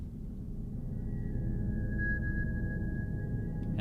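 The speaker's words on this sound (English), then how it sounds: "I like the kind of eerie tone that those really high pitches create" A siren sound effect, pitch-shifted and speed-shifted, with several kinds of reverb, holds a sustained, eerie high tone over a dense, loud low rumble. It stays steady for a few seconds.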